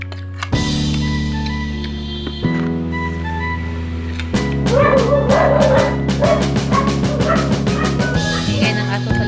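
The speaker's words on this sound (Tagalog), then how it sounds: "Ingay ng aso sa labas." Dog barking outdoors during a home meal of chicken feet adobo, a run of sharp repeated yaps and barks in the second half of the stretch over a steady low hum, fairly loud and close, with no talk.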